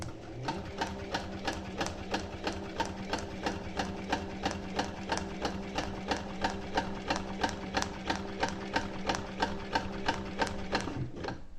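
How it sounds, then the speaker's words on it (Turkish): A Voltex upholstery sewing machine with a speed-adjustable electronic motor and needle positioning stitches upholstery fabric over two layers of foam, running in a fast, steady stream of evenly spaced needle strokes, loud and close, with a low motor hum beneath and no talk. "Döşeme kumaşıyla makinamızı diktiriyoruz."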